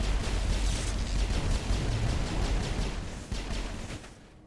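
Dense, continuous bursts of gunfire and explosions in the video game Mass Effect blend into a loud, chaotic roar that tapers off near the end.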